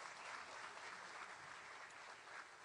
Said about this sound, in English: Let's acknowledge his presence with a round of applause.